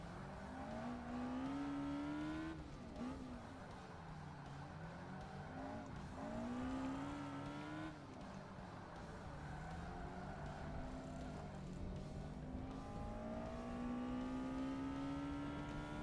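A Lotus race car in Forza Motorsport revs loudly and continuously around a track lap, its engine pitch climbing and dropping through gear changes, with occasional tire squeal; no one speaks.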